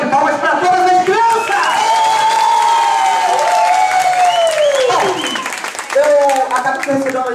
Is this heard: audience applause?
yes